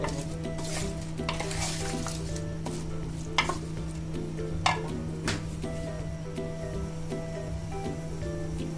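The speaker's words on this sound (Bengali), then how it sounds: "এখন আমরা এটা ভালো করে মিশিয়ে নিব" Fish curry is stirred and mixed in a pan, a steady low sizzle with scraping strokes and a few sharp clinks of a spoon against metal, close by, over a constant droning hum.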